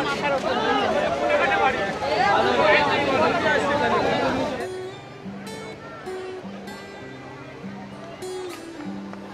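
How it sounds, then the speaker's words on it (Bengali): Crowd on Digha sea beach: a dense, loud babble of many voices and surf for the first four and a half seconds, then cutting to quieter scene with a low steady tone and scattered distant sounds. "দেখো সি বিচের ধারে কিন্তু প্রচুর ভিড়।"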